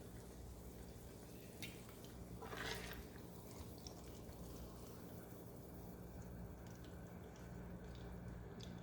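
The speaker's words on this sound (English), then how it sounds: "Just scoop it under and let the fat drip." Bacon fat dripping from a slotted spatula in a kitchen while bacon and eggs are cooked, giving faint, sparse drips over a low, steady background hum, with one brief louder splash partway through.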